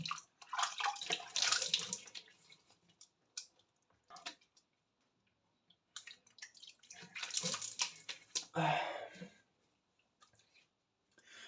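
Water splashes and drips at a bathroom sink as a face is rinsed after a shave, two bursts of close splashing separated by a quiet gap with small drips.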